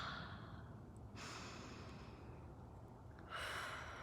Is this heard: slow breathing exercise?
yes